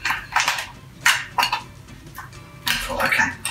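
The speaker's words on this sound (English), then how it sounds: "I'm just going to finally just stir that through." A spoon scraping and clinking against a pan as English mustard is stirred into a sauce, with a few separate taps and scrapes in an irregular rhythm, close and moderately loud.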